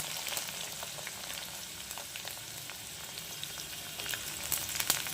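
Beetroot and carrot fry for vegetable fried rice, giving a dense, crackling sizzle that stays at moderate level and is broken by occasional stirring scrapes and small pops. No voices are heard.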